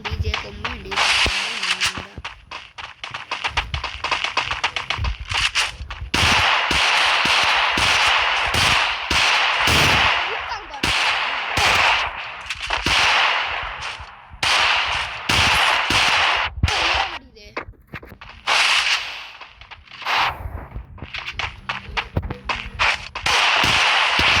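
Desert Eagle pistol shots ring out in a video game, loud sharp cracks coming in rapid dense bursts, mixed with other gunfire and game effects across the whole stretch.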